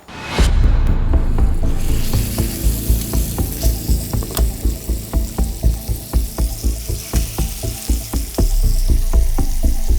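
Beef tenderloin and garlic fry in a very hot oiled pan, giving a loud, steady sizzle with repeated crackling pops and a rhythmic scraping or stirring pulse through the middle stretch.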